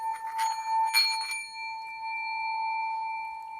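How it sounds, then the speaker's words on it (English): A metal singing bowl rings with bright, layered overtones after a few light strikes, then sustains a long, shimmering hum that slowly fades. "You have to wait for it to die down if you get a sound bowl."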